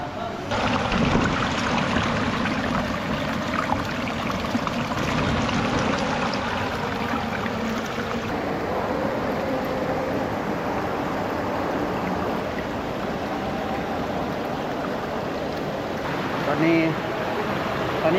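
A steady broadband rush of a waterfall in Vang Vieng, Laos, fills the whole stretch, constant and fairly loud, with no clear voices standing out.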